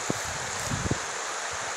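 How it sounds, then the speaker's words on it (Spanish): River water at Ojo de Agua, Calvillo, Aguascalientes, keeps up a steady rushing wash, with a few soft low knocks and thumps close by. "Qué bonito río"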